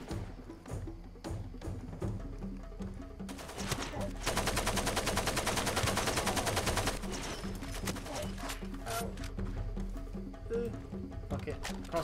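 Rapid bursts of enemy gunfire crackle through a Far Cry 2 firefight, dense and continuous with a heavier sustained volley in the middle, over game ambience.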